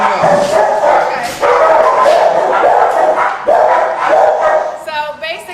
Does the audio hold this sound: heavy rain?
no